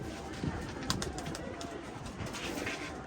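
Soft, repeated cooing of pigeons nearby against a steady background hum.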